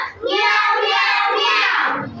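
Several children together imitate a cat's meow in a sustained, loud, high chorus lasting about two seconds, with no other voices.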